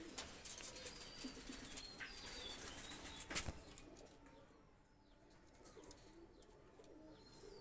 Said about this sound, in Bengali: কবুতার কবুতারটা ছেড়ে দেখাচ্ছি দেখেন